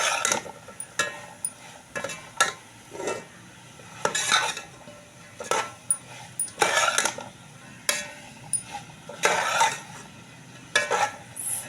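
A spoon scrapes and clanks against a pot while cauliflower is stirred into a curry, in repeated rhythmic bursts with a faint background hiss, close up.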